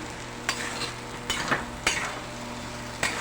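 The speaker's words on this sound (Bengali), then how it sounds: "এটা আমি মিনিট 5-7 কষবো মশলাটা।" Spice paste of cumin, ginger and whole garam masala frying with potatoes and a little water in a pan, with intermittent stirring scrapes and soft sizzling at close range, no talk.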